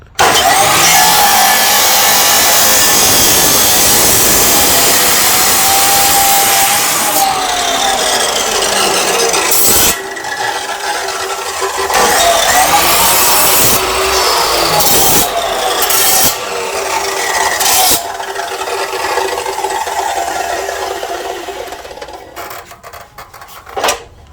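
Loud, harsh whine of a 14-inch Berala abrasive fiber cut-off saw, about three years used, grinding through material with rasping bursts and pitch shifts, then spinning down toward the end.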